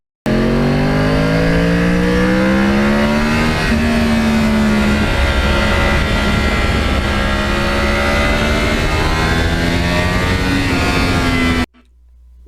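A sport motorcycle engine revs loudly and continuously, its pitch rising and falling through the gears, then cuts off abruptly near the end.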